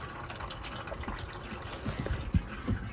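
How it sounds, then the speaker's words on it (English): Water drains steadily through a drain with a soft continuous gurgle and a few dripping plops near the end, at moderate level with no talking. "Now it's draining properly."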